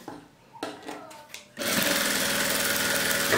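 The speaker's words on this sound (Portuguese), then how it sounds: "Vou costurar em todas as emendas de tecido que eu fiz." A sewing machine stitches the seams of fabric patchwork made from scraps, running as a steady, loud, continuous whir after a few soft handling noises and thumps at the start.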